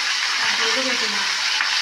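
Fish sizzles in a pan of frying potatoes with green chillies and turmeric, a loud steady hiss of hot oil up close, with a faint voice speaking briefly under it.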